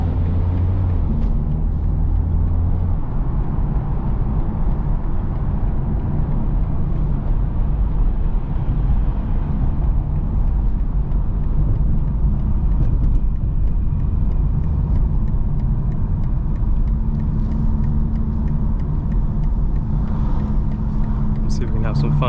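A 900 hp BMW M4 Competition xDrive cruises in comfort mode with exhaust valves closed, giving a steady, muffled low drone and road rumble heard from inside the cabin, even and unchanging throughout.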